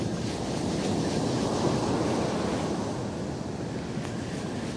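Strong surf pounds the shore at Kilcunda beach in a continuous, loud roar with wind buffeting the microphone, and no voices are heard.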